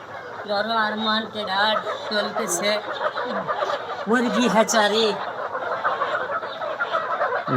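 Many layer hens, about 1,100 being loaded for delivery, cluck and squawk in a busy, crowded chorus, with sharp calls overlapping close by over a constant background murmur.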